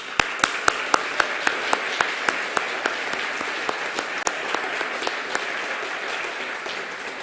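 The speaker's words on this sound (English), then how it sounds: "Kate, Elaine and Felicity, so we can give you a really warm round of applause." Audience clapping at a heritage awards ceremony, a steady wash of many hands with sharp, regularly spaced louder claps standing out near the front, sustained evenly throughout.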